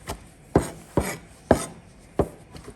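A knife chops green chillies for a sour soup with five sharp, irregularly spaced cuts on a board, close and distinct against a quiet background.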